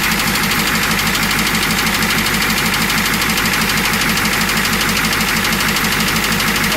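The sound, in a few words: 1969 Ford F-250 engine knocking from the front cylinder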